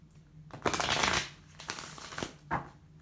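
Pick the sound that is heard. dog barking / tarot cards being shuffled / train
tarot cards being shuffled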